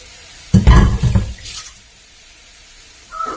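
Chopped beetroot drops into a hot pan with a burst of sizzling and stirring, then fades to a quiet low frying hiss, with another short stir at the end.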